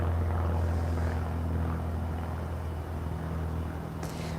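An airplane passes overhead during an outdoor yoga session, a steady low droning engine rumble that stays loud and constant throughout the short stretch.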